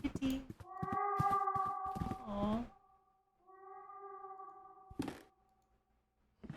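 A cat in the horror game The Last Door lets out long, drawn-out mournful meows, two clear cries separated by a pause, with a player's voice briefly reacting and a few soft knocks around them.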